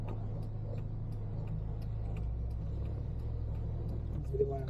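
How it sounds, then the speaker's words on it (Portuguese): A truck rumbles past on a street in the southern Tramandaí neighbourhood at Praia de Tramandaí, a steady low engine drone holding throughout without speech. "deixa eu passar o caminhão"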